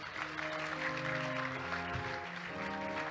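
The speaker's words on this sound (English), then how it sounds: "Give them a clap, please." Audience applause at an official launch ceremony, a dense steady wash of clapping from a crowd heard from a distance, with a sustained musical tone underneath.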